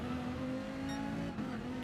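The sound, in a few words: race car tyres under braking, video game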